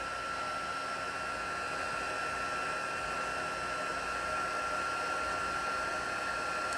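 A heat tool blows hot air in a continuous, even whirring hiss with a steady whine, close and unbroken for the whole stretch, with no talking.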